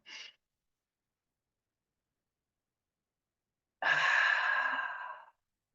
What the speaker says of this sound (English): Oh, excuse my yawn.